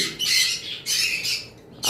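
Lovebirds in a collection of adult birds let out loud, shrill squawking calls close by, coming in several bursts with short gaps between, and no voices are heard.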